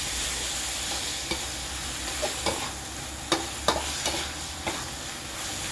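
Marinated pork and holy basil stir-fry in a hot pan, giving a steady sizzle broken by several sharp spatula scrapes and clacks against the metal, with no talking.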